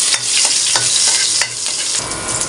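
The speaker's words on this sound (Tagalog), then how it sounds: "Ito po, igigisa na po natin yung aking adobong pusit." Marinated squid and onion for adobong pusit sauté in a hot pan, a loud close bright sizzle with repeated scraping stirs at a steady pace.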